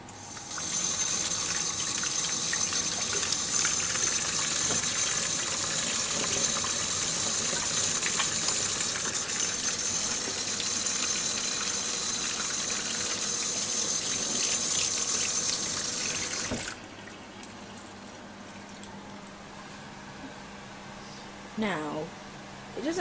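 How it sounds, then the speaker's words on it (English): Tap water runs steadily into a sink as egg-coated hands are rinsed under it, a continuous gushing for most of the clip before it cuts off, leaving quieter room sounds. "Now I'm just gonna wash my hands a bit because they are a bit egged up."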